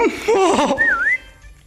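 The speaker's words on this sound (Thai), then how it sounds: "มีเสียงผิวปากมาด้วย" A whistling sound effect in the Roblox game Hide or Die: a short warbling, rising-and-falling whistle after a brief giggle-like burst, loud and clear.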